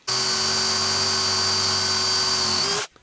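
An electric drill bores a small cavity into a Telecaster guitar body, giving a steady, close, high-pitched whine that holds for nearly three seconds and then cuts off abruptly, with no talking.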